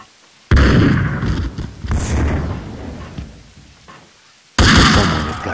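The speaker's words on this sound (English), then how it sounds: "We got jumped down as they're dropping grenades on us" Grenades go off in Max Payne 2 during a high-rise firefight: two loud booming blasts, the first rumbling and decaying over several seconds before the second hits near the end.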